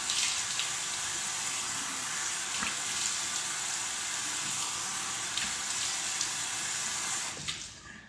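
Warm water runs steadily from a tap into a basin, a continuous splashing hiss with a few small drips and knocks, close by, until the flow is shut off near the end.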